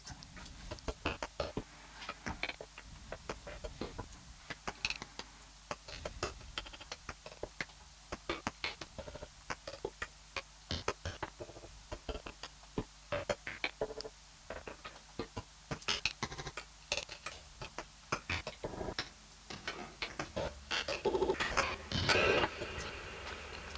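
One-shot samples play in sequence through an arpeggiator in Ableton with glitch, auto pan and sidechain effects, giving rapid clicky ticking hits in a stuttering rhythm that stay fairly quiet and build toward the end.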